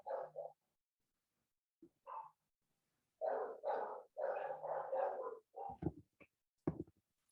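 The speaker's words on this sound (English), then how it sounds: "Y'all hear them dogs in my background?" Dogs barking in the background, a series of sharp barks coming in scattered bursts, some quick repeated, heard at a distance and fairly faint.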